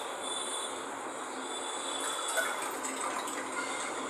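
Cold water pours into a glass with ice for a raw mango aam panna drink, a soft continuous splashing fill heard close and fairly quiet, with no talk.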